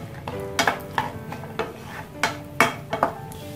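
Dry fruits frying in ghee in a pan while a spoon stirs them, giving repeated sharp metallic scrapes and clinks over a soft, steady sizzle, close and moderately loud.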